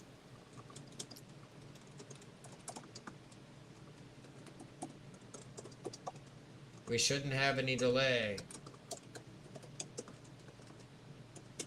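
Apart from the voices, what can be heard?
typing on a computer keyboard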